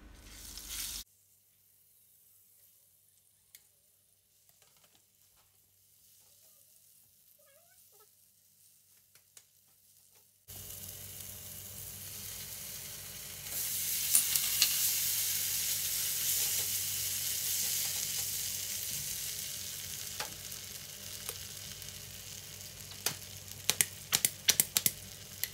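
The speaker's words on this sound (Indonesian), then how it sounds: "Tumis bawang bombay sampai benar-benar harum." Chopped onions sautéing in about two tablespoons of margarine in a pan, starting after a long quiet stretch, then a steady close sizzle that grows louder, with light clicks of stirring toward the end.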